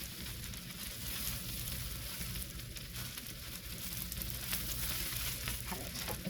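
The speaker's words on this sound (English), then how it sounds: "frying this long enough, theoretically, that it has the fried flavor" Rice frying in a pan for fried rice, a dense, continuous sizzle with crackling and occasional stirring scrapes, fairly close and steady throughout.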